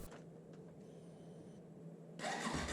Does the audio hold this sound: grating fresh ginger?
no